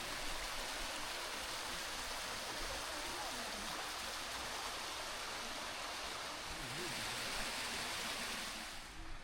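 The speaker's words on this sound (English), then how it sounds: "See a waterfall here." Waterfall near Sacsayhuaman in Cusco, Peru, a steady broadband rush of falling water that stays constant and fairly loud throughout, with no clear voices over it.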